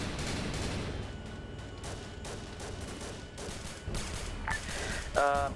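Gunfire in the Vietnam War game SOG Nam, a steady stream of distant shots and bursts, with a louder crack near the end and radio-style voices talking over it.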